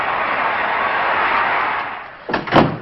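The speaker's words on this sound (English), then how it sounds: "Shut the door." A door in a 1955 film noir shut with a firm thud that lands near the end, after a stretch of steady hiss-filled room tone.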